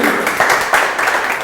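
Audience applause at a Neapolitan-themed TV broadcast show in Palermo, a short burst of dense, loud clapping from a crowd, close and steady with a few sharper claps standing out.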